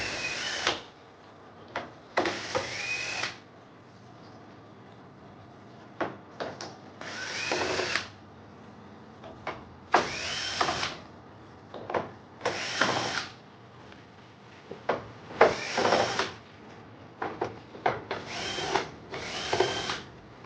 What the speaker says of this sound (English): Let's start by removing screws from the back cover.